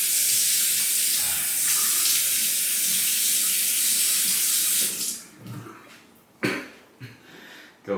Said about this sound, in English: Let me rinse one more time here.